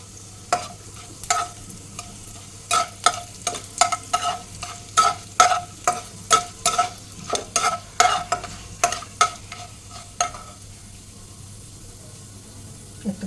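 Cumin and fennel seeds sizzle in a pan under a soft frying hiss, broken by repeated scraping strokes of stirring that come in a loose, irregular rhythm close by.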